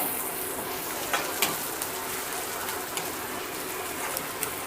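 Torn curry leaves hit hot oil in a pan for a kaju chicken curry, giving a steady close sizzle and crackle with a few sharper pops, and no talk.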